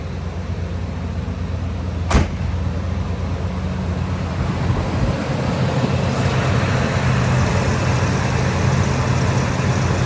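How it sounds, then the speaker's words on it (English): Steady, smooth idle of a 1988 Chevrolet Monte Carlo SS 305 V8 engine heard nearby from outside the car, with a single sharp click early on. "Smooth running 305. Practically a brand new engine."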